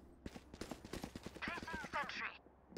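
Rapid sniper rifle shots crack out one after another during a Valorant college esports match, Marietta College versus Mount Vernon Nazarene, with sharp repeated impacts over a dense game mix and brief higher-pitched effects near the end.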